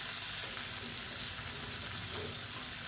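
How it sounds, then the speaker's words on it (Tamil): Small onions sautéing in a pan for a green chilli chutney give a dense, continuous sizzle at a low, steady level, with no breaks and no voice. "இந்த வெங்காயம் நல்லா வதங்கட்டும்."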